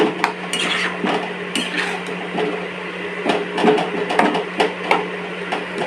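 Pumpkin curry with sugar and chopped green chillies being stirred in a pan, giving repeated close scraping and clinking of a utensil against the metal, with a steady low hum underneath and no talk.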